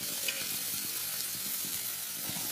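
Onions hit a hot pan set on a medium flame and sizzle in a steady, close, soft hiss with faint crackles, heard alone without talk.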